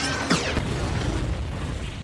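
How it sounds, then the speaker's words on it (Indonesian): A big cinematic explosion from a missile strike in The Fate of the Furious (2017) roars with a sharp burst at the start, followed by sustained rumbling, crackling debris that cuts off abruptly. "Ledakan besar pun terjadi."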